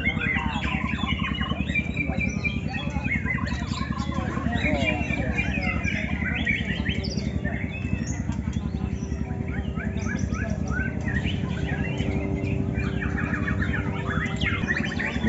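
Busy, varied white-rumped shama birdsong at a songbird contest, with rapid chirps and whistled phrases, loud and continuous, while people talk in the background.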